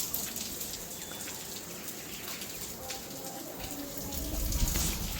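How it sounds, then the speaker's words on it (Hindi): Rain falls in a steady, dense patter and hiss of water pouring down, growing slightly heavier near the end, with a low voice faintly audible. "सब पानी गिर रहा है"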